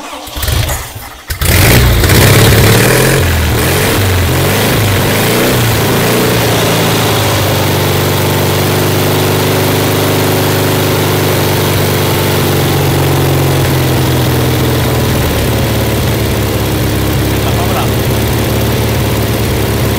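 A Volkswagen engine fitted with a Toyota carburetor cranks and fires, surges through a loud rev, then settles into a steady, close, buzzing idle that holds for the rest of the stretch.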